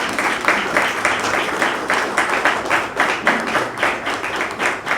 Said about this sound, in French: Je vous demande aussi de m'aider à applaudir, de vous lever même pour applaudir les membres des forces armées d'Haïti.